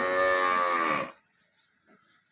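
A cow moos loudly and close by for about a second on a dairy farm, followed by near silence with a few faint rustles.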